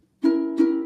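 A Kala Concert Waterman ukulele sounds two bright strummed chords in quick succession, ringing with clear harmonic overtones, close and alone.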